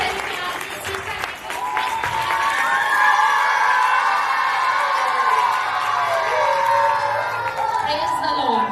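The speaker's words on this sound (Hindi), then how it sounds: "सारे जोरदार तालियां बजाएं और शो करें कि आपने सीखा है।" Children at a one-day church children's program clap and cheer together in a loud, sustained burst of applause mixed with shouts and whoops that fills the room throughout.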